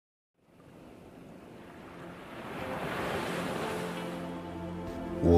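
Ocean waves surge and wash in a steady, rising roar of surf mixed with wind, fading in from silence and swelling toward the end.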